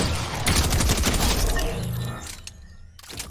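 Sharp Tooth shotgun and Combat SMG fire in Fortnite, a rapid dense burst of gunfire for about two seconds that tapers into a few scattered shots and clinks, loud and close.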